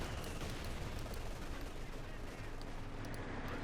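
Dense, continuous battlefield din of German artillery and gunfire in Company of Heroes 2, a loud unbroken wash of blasts and shots with no clear pauses.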